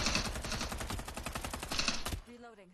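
Rapid automatic gunfire in the video game Rise of the Legend, dense bursts of shots firing almost continuously for about two seconds before cutting off abruptly into quiet.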